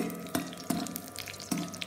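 Raisins frying in a pan for apricot payasam, a close, steady sizzle broken by a few sharp stirring scrapes at irregular intervals.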